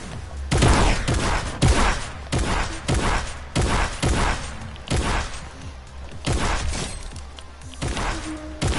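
Heavy video-game gunfire rings out in a steady run of loud, sharp shots roughly every half second to second, each with a crashing tail, close and dominant with no voices over it.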